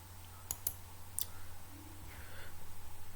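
Computer mouse clicked during an ICT lesson, a few sharp, close clicks in quick succession, a pair and then another pair, over faint room hum.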